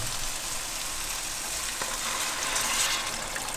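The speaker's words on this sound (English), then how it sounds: "I'm just frying them though, frying the spices." Steady, gentle sizzling of spices frying in a pan, a soft continuous crackle with no voices.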